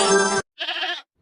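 A hungry goat gives two quick, nasal bleats in a row, close and clear, the first harsher and the second shorter and thinner, with nothing else around them.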